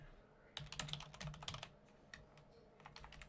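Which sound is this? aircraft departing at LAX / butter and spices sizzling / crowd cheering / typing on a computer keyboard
typing on a computer keyboard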